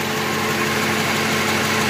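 A 1992 Corvette convertible with the LT1 engine idles steadily, a constant low rumble with even exhaust hum and no voices over it.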